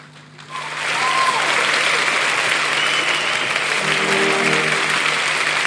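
Sustained applause from an audience at a Lagos fintech conference, swelling quickly after a brief pause and holding steady and fairly loud to the end.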